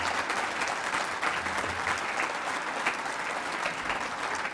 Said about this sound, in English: Could we have a round of applause for all of our honorees tonight on this special bunch?